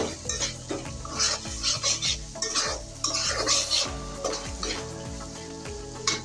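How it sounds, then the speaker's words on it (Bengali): Spice paste with ginger-garlic paste, turmeric, chilli and coriander powder sautéing in a pan, a gentle sizzle under rhythmic, repeated spatula scrapes and stirs, close and moderately loud throughout. "এখন মশলাটা আমি ভালো করে কষিয়ে নিচ্ছি"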